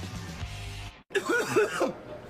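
A low hum fades out, then after a brief silence a raspy, throaty cough-like clearing sounds close by, with a strained vocal quality.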